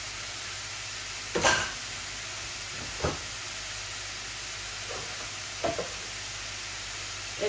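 Liver and lungs fry in a pan with chili, ginger and garlic, a steady hiss of sizzling broken by a few sharp stirring clatters spaced seconds apart, close by and without speech.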